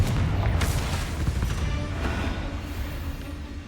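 A Confringo spell blast in Hogwarts Legacy lands as a booming, explosive impact, followed by a few thumping bursts that fade into a rumbling tail, with no voices.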